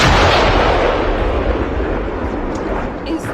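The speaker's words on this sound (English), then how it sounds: "Is that an explosion I'm hearing?" A loud, booming explosion in a video game bursts at the start and decays into a rolling, rumbling roar that fades over a few seconds.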